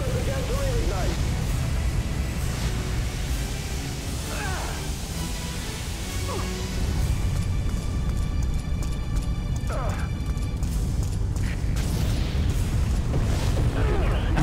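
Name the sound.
explosions in a burning building, from the video game Firefighter F.D.18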